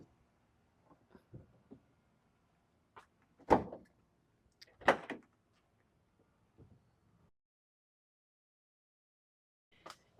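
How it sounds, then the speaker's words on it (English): Rear doors of a Mercedes Sprinter van are opened during bumper removal: a few scattered latch clicks and two sharper metallic clunks close by in otherwise quiet surroundings, without talking. "So let's open these doors up."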